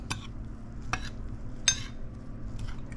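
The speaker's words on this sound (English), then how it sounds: "we'll just give this a mix." A spoon stirs a dry seasoning mix of powder, bijou and coloring seasoning in a bowl for shrimp cassava balls, giving a few quiet, scattered scrapes and clinks over a faint background hum.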